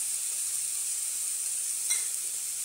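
Ginger and garlic sizzle in a hot pan while cooking paneer tikka masala, a steady bright frying hiss with no talking, a brief louder crackle near the end.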